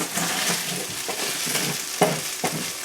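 Tofu frying and being stirred in a pot, a steady sizzle broken by a few soft scraping strokes, close up and alone without any voices.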